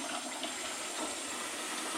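Cold water runs into a container during a brew-in-a-bag homebrew day, a steady hissing rush of flowing water that stays fairly faint and unbroken throughout.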